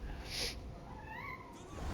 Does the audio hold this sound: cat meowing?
yes